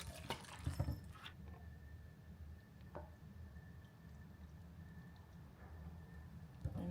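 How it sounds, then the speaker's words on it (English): A quiet kitchen sound of water being poured in to dilute a Mrs. Meyer's scented liquid, with faint splashing and a few soft knocks and drips, close by and low in level, with no talking. "So I'm gonna add some water real quick."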